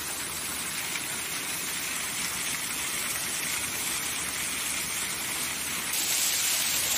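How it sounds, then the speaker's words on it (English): Linda Falls in Linda Falls Preserve, Angwin, California, pours as a continuous broad rushing roar of falling water, steady and close throughout, swelling slightly louder near the end with no voices. "if you want to take a look at the waterfall"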